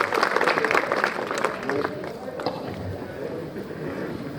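Lively applause from a crowd at a Kishangarh Chhipa community gathering, greeting a guest speaker, loud and dense at first, then thinning out with scattered claps and background voices.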